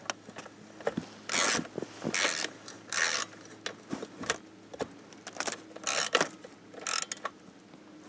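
Bolts on the recoil starter of a Ski-Doo Tundra snowmobile are tightened by hand, giving close, irregular bursts of metallic ratcheting and scraping with brief gaps between turns and no speech.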